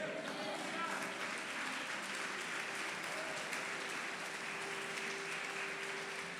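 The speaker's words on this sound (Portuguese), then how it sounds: "Aplaude ao Senhor" A church congregation applauds in a steady, continuous wash of clapping that holds evenly throughout, with a held tone and a faint voice beneath it.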